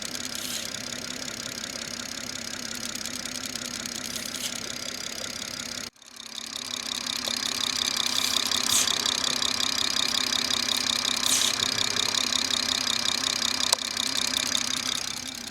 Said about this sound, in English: I got the microphone a little bit closer so you could actually hear the air leaking into the crankcase